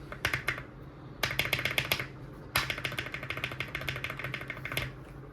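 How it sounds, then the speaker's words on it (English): Rapid typing on a Wooting keyboard, a dense run of close, crisp key clacks in three bursts with short pauses between, no voice. "now that we've tested out the keyboard, it is time to mod it"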